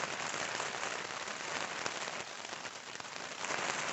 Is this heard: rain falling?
yes